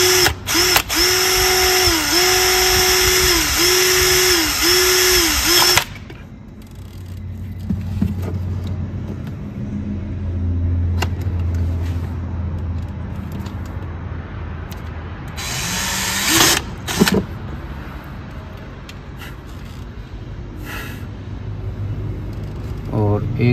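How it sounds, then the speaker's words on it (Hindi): Power drill boring holes into the manifold of a CNG conversion kit being fitted to a BS6 Tata Punch, a loud steady high whine for about six seconds that stops abruptly, then quieter workshop handling, with a brief second drill burst later and talk nearby. "तो मैं इस मैनिफोल्ड के ऊपर होल गिराऊंगा और हमारे पास मशीन है तो मशीन से करेंगे।"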